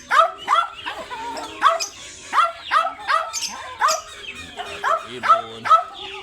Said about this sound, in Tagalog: Meron din po tayong aso.